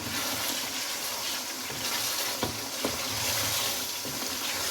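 Chopped tomatoes with salt, ground garam masala and finely cut green chillies fry in a pan, giving a steady, dense sizzle with a couple of faint utensil taps.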